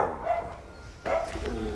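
Indoor dog barking while looking out a window, two sharp barks about a second apart, close and loud, with a yelping, whimpering edge between them.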